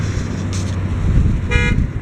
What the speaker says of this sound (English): A lot of horns honking, people getting there in a hurry to get home